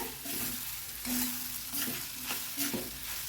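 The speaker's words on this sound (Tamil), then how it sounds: "மாங்காய் ஒரு ஃபிஃப்டி பர்சன்ட் சிம்லேயே வதங்கட்டுங்க" Raw mango pieces sautéing on a low flame for a pickle, a soft continuous sizzle with light stirring scrapes in a pan, fairly quiet and steady, with no talking.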